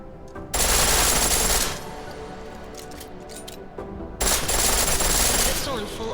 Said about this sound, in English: A pistol in full auto will take down targets fast, but it'll burn through your ammo.